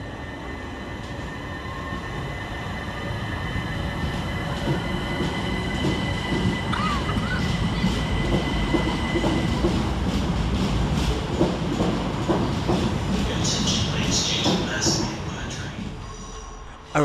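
Southern Railway class 377 unit 377203 pulls out of Redhill station on a service from London Victoria to Reigate, a steady loud roll of wheels over rail joints with high squealing near the end as it draws away.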